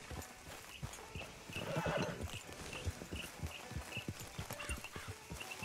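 Horse hooves clip-clop steadily with a whinny in Red Dead Redemption 2, rhythmic close hoofbeats under a rising neigh around the middle, with ambient outdoor game sound throughout.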